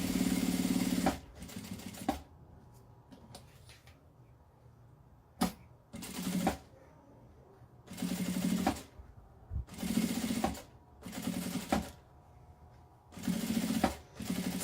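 A sewing machine stitching a finishing seam around a toiletry case in repeated short bursts of rapid needle chatter separated by quiet pauses, close and clear with no talk.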